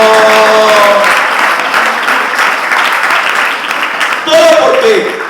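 Loud, sustained clapping from a large crowd at a church service, steady throughout with a few faint voices mixed in.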